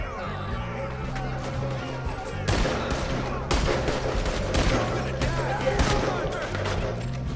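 Dense gunfire from Red Dead Redemption 2 during a boat robbery, a sustained barrage of overlapping shots that swells louder partway through, with a voice faintly under the din.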